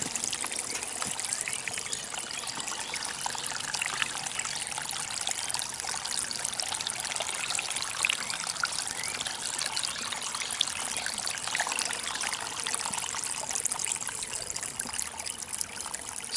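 Water trickles and splashes continuously out of a leaking garden pond, a steady close-up babble like a small waterfall with no voices.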